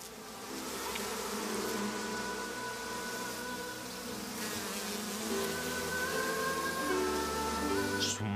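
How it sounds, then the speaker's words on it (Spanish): A swarm of bees buzzes in a dense, continuous, close drone with layered wing tones that shift slightly in pitch, loud and steady with no voices. "Un enjambre de abejas descendió sobre su cuna"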